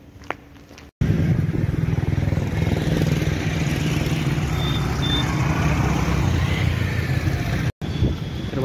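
A friend's two-wheeler motorcycle arrives at a roadside stop, a loud, steady engine drone close to the listener that starts abruptly and holds for several seconds before a brief cutoff and resumption.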